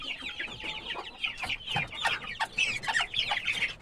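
Day-old chicks, hatched only yesterday, cheep in a rapid stream of high peeps, close and fairly loud, with scattered sharper chirps overlapping throughout.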